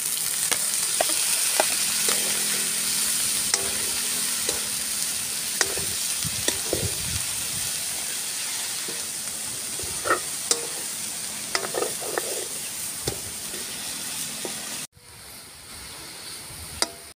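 Cabbage stir-fried in a pan for fresh miki noodles: a steady, close sizzle runs throughout, broken by scraping and clattering of a utensil stirring the pan, before cutting abruptly to quieter hiss near the end.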